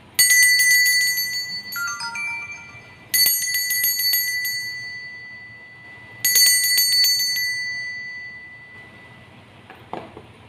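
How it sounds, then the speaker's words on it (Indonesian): A bright metallic bell rings three times, each ring struck sharply and left to shimmer and fade slowly, with a faint click near the end. "Kita akan memulai dengan ditandai lonceng berbunyi."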